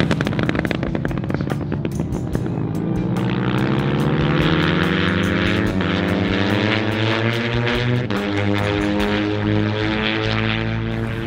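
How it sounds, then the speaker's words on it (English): A BMW R nineT Racer motorcycle engine rises and falls in pitch as the rider works the throttle, with a loud, close gurgle and crackling pops on deceleration, heard alone without talk. "Gurgle every time you close the throttle on corner entry."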